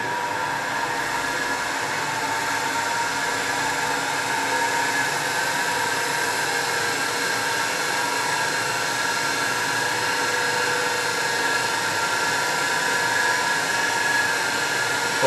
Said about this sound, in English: motor is rotating at a RPM of 1575